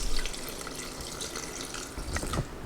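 Water is poured into enchilada sauce mix seasoned with cumin and salt, a steady close splashing stream with a slightly louder gush near the end.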